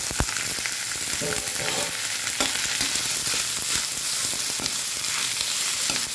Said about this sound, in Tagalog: ginigisa ko yung karne yung giniling